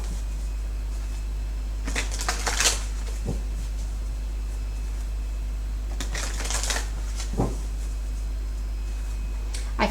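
Tarot cards are shuffled in two crisp bursts of riffling and flicking, each followed by a soft tap as the deck settles, against a steady low hum with no voices.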